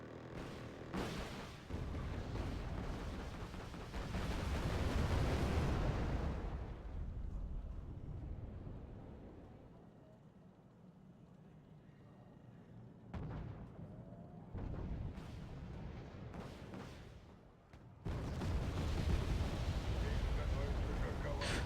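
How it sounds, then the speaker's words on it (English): Artillery barrages in the real-time strategy game Wargame: AirLand Battle, heavy booming rumbles that swell and fade in long bursts, with a quieter lull midway and renewed blasts near the end. "we're receiving artillery"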